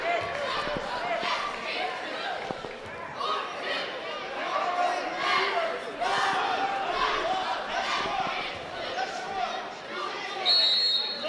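Crowd in a high school boys' varsity basketball gym grows excited during a game, a steady roar of voices and cheering rising and falling, with faint squeaks and thuds of play underneath.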